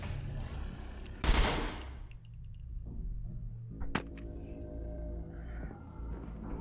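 Weapon fire in the survival game SCUM, set inside a bunker: one loud crackling burst rings out over low ambient rumble, followed later by a quieter sharp crack and faint clinking.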